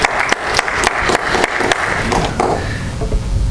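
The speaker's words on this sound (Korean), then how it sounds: "우리 샬롬 성가대님께 감사의 박수 한번 드리겠습니다" A church congregation applauds a choir after a hymn, loud close clapping that thins out and fades toward the end.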